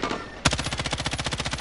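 Rapid automatic gunfire in a video game, a sharp burst after a brief quieter lead-in, then a steady rhythmic stream of shots lasting over a second.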